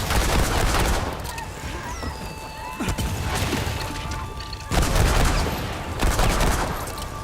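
Rapid gunfire bursts in Remnant 2, dense crashing volleys with sharp onsets near 3 s and 4.7 s, loud and continuous across the whole stretch with game noise layered underneath.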